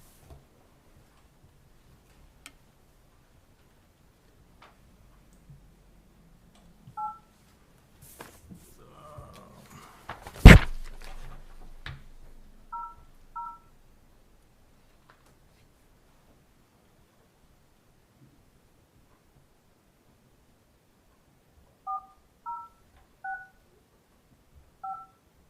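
Telephone keypad tones sound while dialing into a phone conference for a commission meeting: a few short beeps, a burst of line noise, then more scattered beeps in pairs, all faint against near silence.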